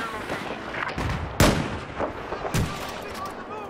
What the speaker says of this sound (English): Oh, I almost hit him with that rocket.